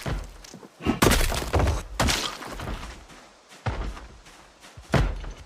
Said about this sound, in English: There's something else inside banging on a door.